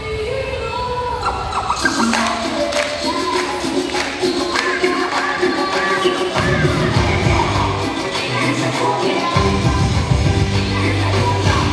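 Crowd at a sweet sixteen party cheering, whooping and shouting continuously, loud and close, with music and bangs mixed into the din.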